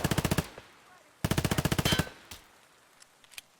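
Automatic gunfire in Escape from Tarkov, two rapid bursts of about eight close, sharp shots each, then a few scattered single shots fading out.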